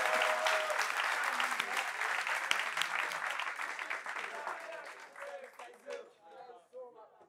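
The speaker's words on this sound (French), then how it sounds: "Applaudissements pour vous-même, chers amis du public" A TV studio audience claps in loud, dense applause that holds steady for several seconds, then thins out and fades toward the end.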